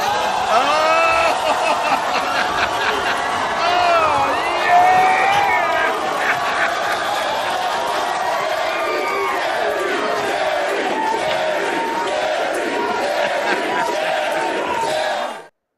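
A large crowd cheers and hollers continuously at a steady loud level, dense overlapping voices with occasional shouts rising above, then cuts off abruptly at the end.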